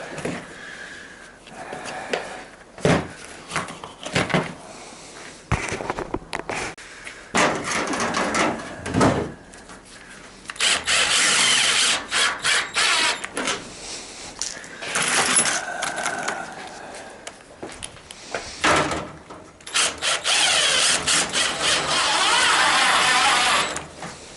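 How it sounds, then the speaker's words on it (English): An impact driver sinks short star-head screws into aluminium, giving repeated bursts of rapid hammering clatter, some brief and some sustained for a couple of seconds, separated by quiet gaps and handling clicks. "It's aluminium, so you go right through it with an impact"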